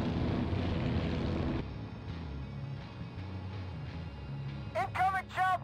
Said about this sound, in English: Incoming chopper!